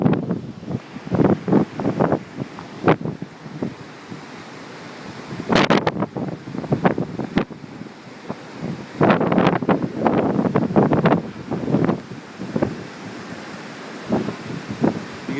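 Ocean waves crash and wash onto a beach during Hurricane Irene, with gusting wind buffeting the microphone. Breakers surge in irregular bursts over a constant roar of wind and surf, close and loud, with no talking.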